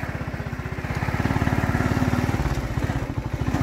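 Motorcycle riding through the bush during a cattle roundup, its engine a steady rapid low putter with a regular throbbing pulse, close and fairly loud throughout, with no voices.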